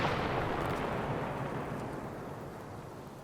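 A rocket launched in Arma 3 multiplayer, a loud broadband blast with a deep rumbling roar that slowly fades over a few seconds.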